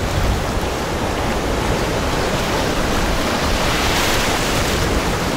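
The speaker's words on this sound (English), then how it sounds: "All right, the water's rough as hell." Rough ocean surf on the coast of Ecuador roars as a loud, steady wash of broadband noise with no break, close to the microphone and unaccompanied by voices.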